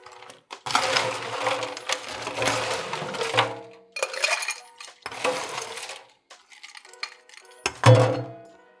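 Ice for a classic Manhattan cocktail clatters and rattles nearby in several bursts, each a second or two long, ending in a single sharp clink, with no talking.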